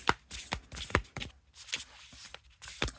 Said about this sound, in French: les cartes se mélangent toutes seules